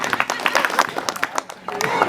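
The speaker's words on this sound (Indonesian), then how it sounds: "Tepuk tangan buat Ece Aminah." An audience at a lively Maulid Nabi sermon in Karawang claps in a short burst of irregular, fairly loud applause, with voices mixed in.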